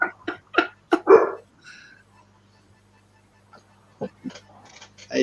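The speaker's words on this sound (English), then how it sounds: "And there's my dog barking again." A dog barks several times in quick succession, sharp and fairly close, then falls quiet before a few more brief yips and barks near the end, with a low steady hum running underneath.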